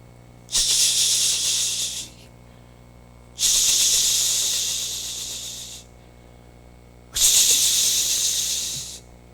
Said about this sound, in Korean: 인터넷 들어가서 동영상을 딱 치니까 뱀의 소리가 나와요